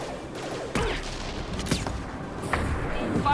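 Gunfire in Mass Effect 2, with several distinct sharp shots and bursts spaced across a few seconds over a busy combat background, moderately loud and near.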